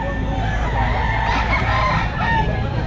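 A Belgian Black rooster crows amid a dense, noisy crowd of clucking and crowing fowl at a pet market, loud and continuous with faint voices in the background.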